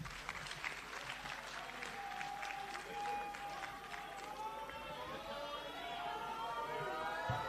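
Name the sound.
round of applause at conference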